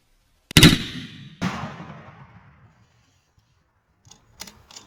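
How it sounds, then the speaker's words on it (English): Long-range rifle shot: a single loud, sharp crack followed by a second thump and a decaying rumble fading over about two seconds, then quiet with faint clicks of handling near the end. "took a second shot"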